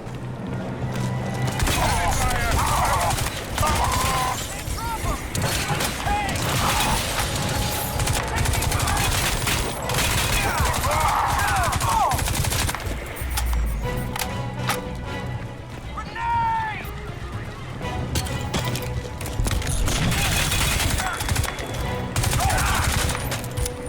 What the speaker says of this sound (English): There's no bullet damage, but the shooting feels super punchy.